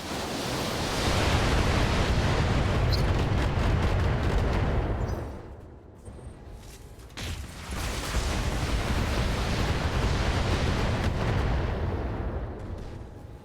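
Weapons fire and explosions in the BattleTech video game roar as a dense, sustained barrage, loud and continuous, dropping briefly to a lull before the heavy rumble of fire resumes.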